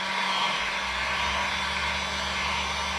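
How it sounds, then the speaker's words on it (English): A heat gun blowing as it warms a surface, a steady, fairly quiet whirring hiss with a low hum that runs evenly throughout, with no voices. "What we do is you have a heat gun and"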